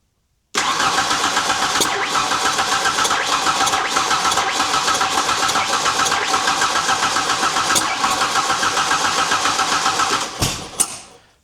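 A Ford Ranger that has had trouble running cranks, catches and runs roughly at a steady mid-pitched idle for about ten seconds, close and loud, then cuts off abruptly.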